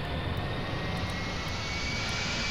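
Airliner engines roaring at takeoff in the GeoFS flight simulator game, a loud, steady, unbroken drone with a faint whine, no voices.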